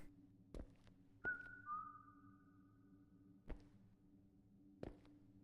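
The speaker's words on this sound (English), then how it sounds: "Who whistled?" A long, steady whistle rings out in the Unspoken horror video game, then a second tone joins it and both hold for about two seconds. Sharp clicks and thuds break up a quiet, humming backdrop.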